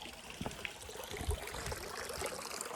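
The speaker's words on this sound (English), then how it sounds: "There's actually a stream." A small outdoor stream flows with a soft, continuous trickle, faint and steady, with no voices.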